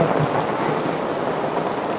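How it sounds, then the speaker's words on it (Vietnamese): Heavy rain with strong wind pours down steadily and loudly, a dense continuous wash of drops with no pauses. "trời mưa to gió lớn ha"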